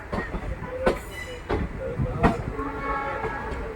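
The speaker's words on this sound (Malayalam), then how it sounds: "ഇപ്പം അങ്ങോട്ടേക്കാണ് ട്രെയിൻ പിന്നെ പ്ലാറ്റ്ഫോമിലേക്കാണ് പോയിക്കൊണ്ടിരിക്കുന്നത്" A train rolling slowly into a platform at Mangalore Central railway station, with rhythmic wheel clatter and a few sharp squeals or clanks standing out above a steady rumble, heard fairly close.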